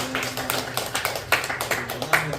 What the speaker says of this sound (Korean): 우리 다 같이 한번 박수로 한번 격려해 주실까요?